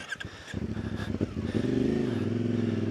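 CFMOTO 450 MT motorcycle ridden off-road, its engine loud and close, revving and climbing into a steady sustained drone with some clatter over rough ground.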